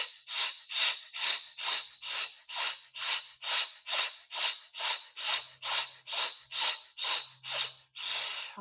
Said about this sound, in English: Inhale all the way. Exhale to empty.